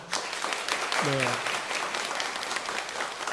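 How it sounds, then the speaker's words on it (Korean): A church congregation claps together in sustained applause, dense and steady, with a short voice briefly heard over it. "우리 박수로 한번 격려할까요?"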